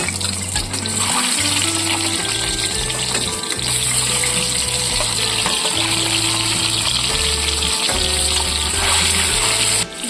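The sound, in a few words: eggs frying in hot mustard oil in a wok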